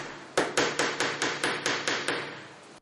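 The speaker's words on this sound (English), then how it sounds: "There is even a guy on YouTube using an Oppo phone as a hammer" An Oppo smartphone used as a hammer, striking a hard surface in about ten sharp, evenly spaced blows, close and loud with no talking.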